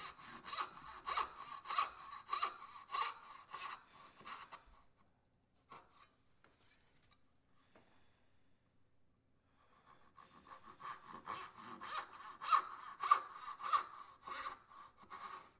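A hand saw rasps through wood to a cut line in quick, rhythmic back-and-forth strokes, close and clear, pausing for several seconds before the steady stroking resumes.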